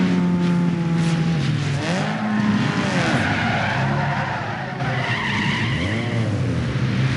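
Car tires skid and squeal continuously in the racing video game Need for Speed Underground 2, layered over a loud revving engine with rising and falling pitch sweeps, no talking.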